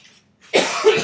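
A man gives one sharp, close cough during a maths lecture, a short harsh burst after a near-silent pause.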